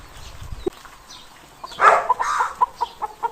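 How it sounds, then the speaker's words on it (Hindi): A hen laying an egg clucks in a run of short, throaty calls that grow louder toward the end, with a brief dull knock just before. "वो मुर्गी बैठी है अंडा दे रही है"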